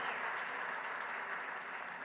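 A crowd at a political speech gives a dense, steady round of applause that stays even and full throughout, with no break.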